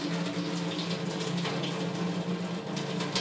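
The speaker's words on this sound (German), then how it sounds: "Ich habe immer Angst, dass die Rohre in der Spüle schmelzen, weil das einfach heiß ist, das Wasser." Hot, steaming water pours into a kitchen sink while pasta is being cooked, a continuous rushing, splashing stream at close range with no talk.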